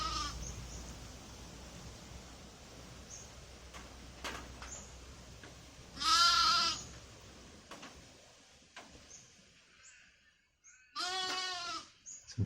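Sheep in a flock bleat in a few separate calls, one loud nearby cry standing out, then a wavering bleat later, with quiet rustling and low background sound in between.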